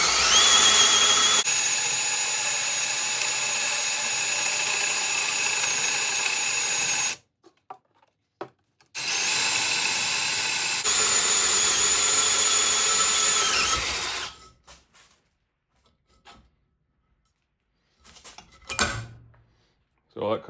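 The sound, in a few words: drilling out a welded shaft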